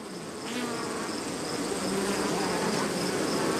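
Bees swarm near a hive on a farm hit by mass bee deaths, a dense steady buzzing drone that fills the scene at close range, with no talk.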